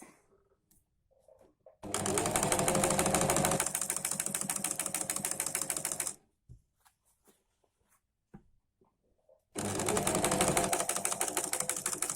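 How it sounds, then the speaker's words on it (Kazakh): A sewing machine stitches along the edge of a pillow in two loud, steady runs of rapid needle chatter, separated by a few seconds of near silence. "Екінші шетінде осылай тігіп аламыз."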